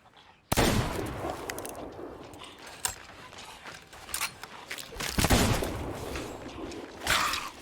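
Gunshots in Sea of Thieves, a sharp loud blast at the start followed by scattered further shots and clattering bursts amid busy game ambience.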